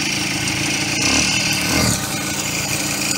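An old moped engine, stripped of its plastic bodywork for restoration, runs steadily at close range with a rough, buzzing drone that swells briefly in the middle before settling back to an even idle.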